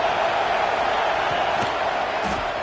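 Stadium crowd roar from the College Football 26 video game at a goal-line stand, a steady loud wash of cheering with faint thumps underneath.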